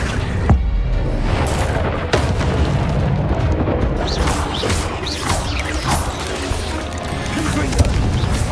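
A video game's Accio summoning spell effect sounds as loud rumbling booms and mechanical crashes with whooshing swells, continuous throughout, with a voice heard over it.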